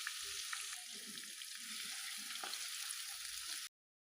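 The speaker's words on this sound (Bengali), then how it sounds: "পেঁয়াজগুলো ভেজে নিয়ে নিব।" About 250 grams of chopped onions fry in a pan for a dried fish preparation, producing a quiet, even hiss of oil with faint scraping stirs, and no voices.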